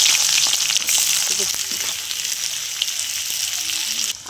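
Onion, whole cumin and a dried red chilli frying in hot oil in a wok, a loud steady sizzle close up with small scraping touches throughout.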